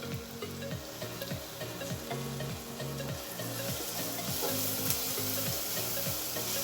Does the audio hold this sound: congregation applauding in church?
no